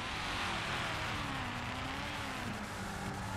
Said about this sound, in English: Do your burnouts.